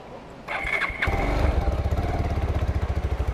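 A motorcycle engine catches and starts up close by, then settles into a steady, throbbing idle with a pulsing, rhythmic beat.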